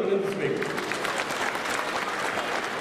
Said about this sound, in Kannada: ಜೋರಾದ ಚಪ್ಪಾಳೆಯೊಂದಿಗೆ ಅಭಿನಂದಿಸಬೇಕು